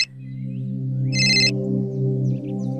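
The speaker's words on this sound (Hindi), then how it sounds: "उठाइए ना फोन, बहुत देर से वहीनी का फोन आ रहा है" A telephone rings with an incoming call, giving a short bright trill at the start and a longer burst partway through over a steady low hum, with no one speaking.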